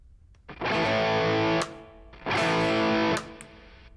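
Clean electric guitar with the delay effect switched off and no chorus on, two loud strummed chords each ringing about a second, then cut short without any echo tail.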